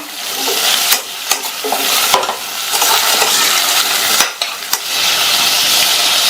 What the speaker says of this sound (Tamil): இந்த முருங்கைக்காயை 1 நிமிஷத்துக்கு வதக்கி விட்டுக்கங்க